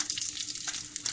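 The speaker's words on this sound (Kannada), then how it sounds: "ಸಾಸಿವೆ ಹಾಕ್ತಾ ಇದ್ದೀನಿ," Mustard seeds sizzle and crackle in about three tablespoons of hot oil while ridge gourd chutney is being made, a steady close frying hiss with small pops and no talk.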